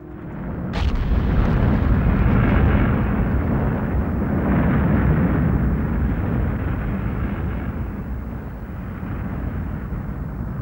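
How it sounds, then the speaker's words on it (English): Explosion sound effect representing the Big Bang: a sharp crack at the start, then a loud, deep, rumbling roar that carries on for about ten seconds and fades only slightly. "that was an explosion of unimaginable power"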